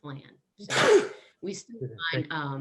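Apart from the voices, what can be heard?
sneeze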